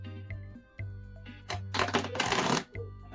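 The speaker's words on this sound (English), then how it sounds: "Just shuffling" Playing cards being shuffled in a few quick riffling bursts, the longest near the end, between short pauses with a low hum underneath.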